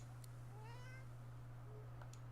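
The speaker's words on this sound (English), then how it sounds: "The cat lifts his head and yowls" A cat yowls in the video game Divinity: Original Sin 2: a quiet, drawn-out rising meow over a constant low electrical hum, followed by a fainter short cry.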